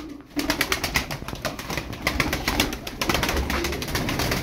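Pigeons coo in a loft of Turkish tumbler play pigeons, repeated soft throaty calls in an irregular rhythm, close and moderately loud, with no talking.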